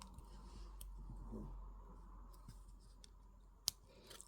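Wire cutters snip jewelry wire at the ends of a wire-wrap pendant weave, a few faint, sharp clicks standing out against a quiet, hushed room, the clearest snap coming near the end.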